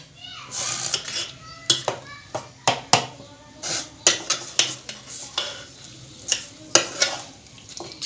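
Mutton is stirred in a cooking pot on high heat, with repeated scraping and clanking of a spoon against the metal over a low sizzle, and a voice talks in between.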